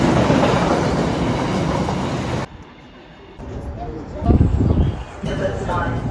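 A train rumbles loudly past at a London station, then the noise drops away abruptly; clattering and station sounds follow, with people talking nearby.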